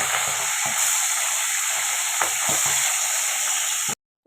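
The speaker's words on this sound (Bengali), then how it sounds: "এবার আমি মাছগুলো ভেজে নেব।" Koi fish sizzling in hot mustard oil in a wok, a loud steady frying hiss with faint pops and spatters throughout, cutting off abruptly near the end.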